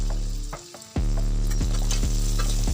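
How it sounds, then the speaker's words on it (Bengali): Paneer frying in plenty of oil in a wok for chilli paneer: a loud, steady sizzle that bursts up sharply after a quieter start, with regular stirring knocks and clinks over the hiss. "কড়াইতে তেল দিয়ে পনিরগুলো ভালো করে ভেজে নিচ্ছি"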